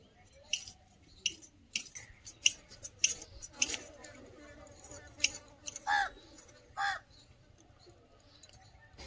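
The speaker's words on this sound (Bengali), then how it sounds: "কাক ডাকছে, দেখ।" A crow caws several times at a moderate distance, sharp separate calls spread over several seconds, while faint household clatter and quiet background noise from a home kitchen continue underneath.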